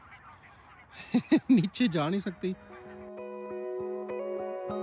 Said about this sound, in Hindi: ये जो आवाज़ें आ रही है ना आपको नीचे से, ये बत्तखें आई हुई हैं बाहर